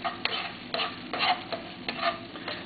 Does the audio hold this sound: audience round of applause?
no